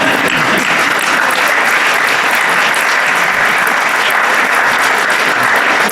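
An audience in a university hall applauds loudly and continuously after a courtroom-style performance, a thick, sustained clatter of many hands with no pauses.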